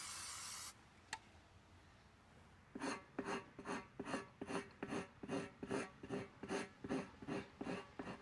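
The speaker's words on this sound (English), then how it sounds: "We'll scrape the area, and we're trying to remove the silicone that was left when they built the tire." Repeated scraping of leftover silicone from the inside of a tire during tire repair, a steady run of about a dozen evenly spaced rasping strokes, close and moderately loud, after a short initial rub and a brief pause.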